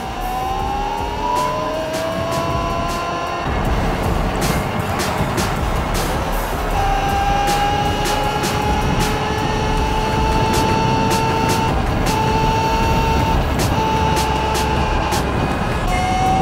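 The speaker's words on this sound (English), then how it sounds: "Feels nice riding a Talaria like this." A Talaria xXx electric dirt bike rides in a fast group ride on Staten Island, giving a continuous high motor whine that rises and falls steadily over rushing wind and road noise, with no pauses.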